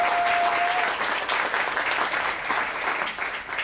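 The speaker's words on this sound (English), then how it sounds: "can I get a big round of applause to start the show?" Studio audience giving a big round of applause at the start of a live marketing show, loud and dense steady clapping that eases slightly toward the end.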